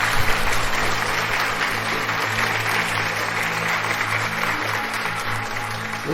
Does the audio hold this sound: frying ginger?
no